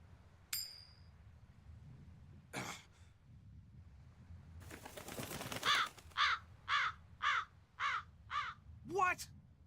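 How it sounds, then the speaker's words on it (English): A crow in the video game Tales of Berseria caws about six times in a steady, loud rhythm, preceded by a few sharp clicks and a burst of broadband noise. "That crow just flew off with the coin!"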